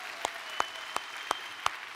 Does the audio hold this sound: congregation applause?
yes